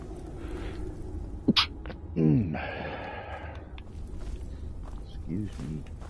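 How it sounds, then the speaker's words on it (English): A single sharp sneeze bursts out abruptly from a person playing Skyrim, brief and close, set amid soft breathing, shuffling noises and a low background murmur. "Excuse me, sneeze."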